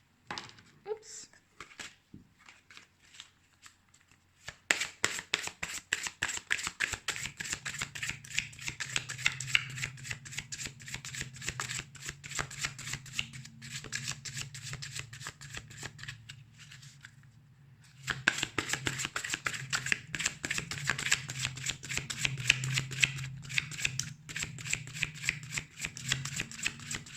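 An oracle card deck, La fleur de vie, is shuffled by hand in quick riffling bursts, a brisk papery flutter that pauses briefly in the middle and then resumes more strongly, close and clear.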